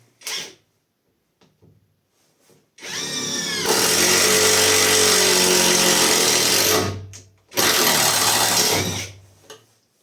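A Catpower 4226 cordless impact driver drives a screw into hard wood, a loud rapid hammering whir lasting a few seconds, then a second shorter burst after a brief pause.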